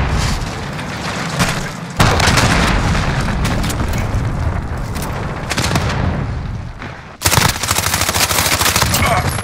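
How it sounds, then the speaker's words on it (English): A cruise missile strike in a Modern Warfare game sets off a loud, dense barrage of explosions and rapid gunfire. The roar runs continuously, with sharp surges at the start and again near the end. "Allied cruise missile."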